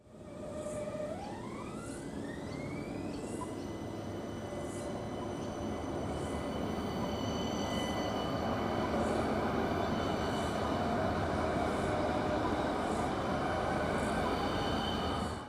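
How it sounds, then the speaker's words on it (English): A Parramatta Light Rail tram pulls away with a rising electric motor whine that climbs in pitch over steady rumbling wheel noise, continuous and fairly close throughout. "As this tram departs"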